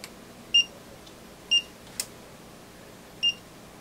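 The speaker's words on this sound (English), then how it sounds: "The meter makes a nice, satisfying beep sound." Three short, high electronic beeps from a multimeter continuity test during repair of an HP 3561A signal analyzer, spaced apart over quiet background, with a faint click between the second and third.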